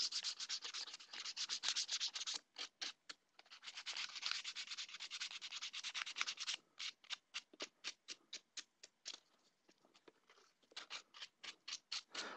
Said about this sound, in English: you don't want to sand too hard that you eat too far into the material